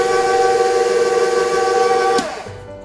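Electric mixer beating fruitcake batter on its lowest setting, a steady tonal motor whine that holds, then winds down as the mixer is switched off near the end.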